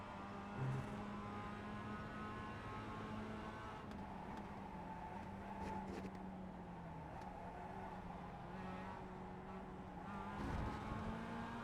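A Mazda MX-5 race car in iRacing at Virginia International Raceway holds a steady engine drone with slight pitch shifts as the throttle varies, fairly quiet and continuous with no talk.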